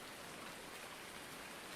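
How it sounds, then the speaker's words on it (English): Steady in-game rain in Farming Simulator 19 on PS4, a dense, uniform hiss of falling drops, quiet and continuous with no other sounds or voices. "Let's just get in here out of the rain."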